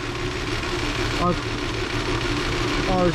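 A 2006 Subaru B9 Tribeca engine idles with a cylinder misfire on cylinder 1, giving a steady, close, low mechanical hum with a faint uneven pulse running throughout.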